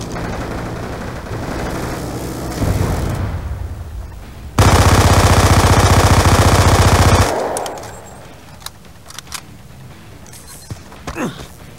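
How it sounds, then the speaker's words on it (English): A minigun in Call of Duty Black Ops 2 multiplayer roars in a loud continuous burst of rapid fire, preceded by a quieter rising spin and followed by scattered distant shots and clicks. "all I hear is a minigun"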